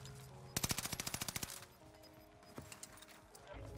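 MP40 submachine gun fired in a video game, a rapid burst of about a dozen sharp shots lasting under a second, followed by a few faint clicks and quiet game background.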